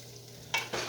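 Leftover potatoes fry in a pan with a soft steady sizzle, then two quick scraping stirs stand out briefly above it at close range.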